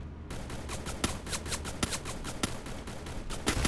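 Gunfire from a Free Fire battle royale match: rapid bursts of automatic fire with sharp individual shots cracking through, steady and close for the whole stretch, with no talking over it.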